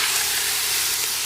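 Ground meat browns in a large pot for homemade pasta sauce, giving a dense, continuous close sizzle with no talking over it.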